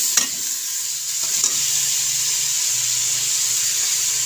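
Bitter gourd and meat curry frying in a pan with steady, close sizzling and occasional stirring scrapes, continuous throughout with no talk.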